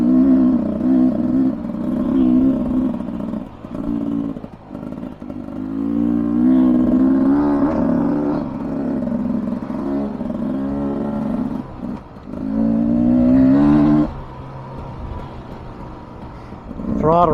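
A 2023 Beta 300 Race Edition two-stroke dirt bike rips along a trail, its engine loud and close, repeatedly revving and dropping off as the throttle is worked, with a few brief lulls between bursts.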